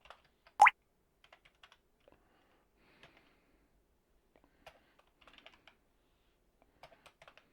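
Someone types on a computer keyboard in a quiet room, with sparse, soft clicks coming in short bursts after one louder knock near the start.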